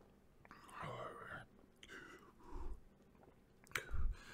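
Sips of a chilled malt drink with soft mouth and swallowing noises, a few gulps and low thumps close to the microphone, with faint whispered voice sounds between them.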